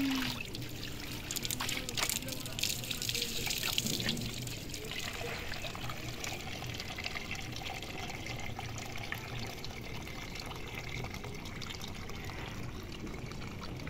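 Cold water pours and trickles over long hair during a shampoo wash, a steady splashing flow close by that stays constant in level, with a slightly louder burst of splashing early on.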